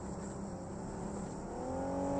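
Faint video-game vehicle engine with a steady motor hum that gradually rises in pitch as it accelerates, heard alone at low level over a couple of seconds.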